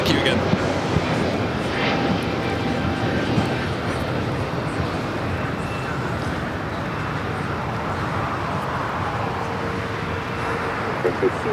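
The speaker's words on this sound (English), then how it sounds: "There's a brand new Dreamliner delivered in December of 2023." A brand new Boeing 787 Dreamliner at LAX gives a steady, moderately loud engine roar that runs throughout, with a voice talking faintly under it.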